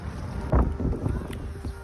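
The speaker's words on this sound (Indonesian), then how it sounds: "Ini tendanya goyang banget karena di luar lagi angin kenceng." Strong wind outside buffets a tent, its fabric flapping and rumbling in uneven gusts close to the microphone, with low wind noise throughout.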